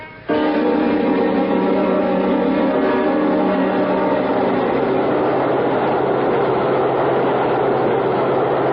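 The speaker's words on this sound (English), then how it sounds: "Come on, we're at the subway." A subway train runs as a radio drama sound effect. It starts abruptly and then rumbles and rattles loudly and continuously, with a steady rolling roar and no voices.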